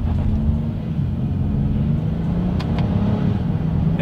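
A 2022 Honda Odyssey minivan pulling away in first gear, a steady low engine drone and road rumble heard from inside the cabin.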